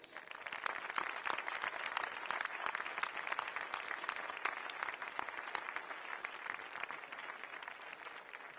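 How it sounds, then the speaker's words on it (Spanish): Audience applause at a Podemos political rally in Torrent, Valencia, a steady sustained round of many hands clapping, moderately distant and even across the whole stretch. "Demano un aplaudiment per a elles."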